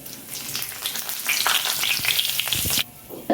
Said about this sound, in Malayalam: ഇനി അതിലേക്ക് നമുക്ക് ഈ സ്പൈസസ് പൊടിച്ചതും കൂടി ഇട്ട് കൊടുക്കാം